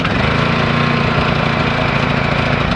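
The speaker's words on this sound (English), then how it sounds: "All right, so it did start up." A Honda EU2200i inverter generator engine runs steadily and loudly up close, a continuous mechanical drone with a rough, even hum and no talking.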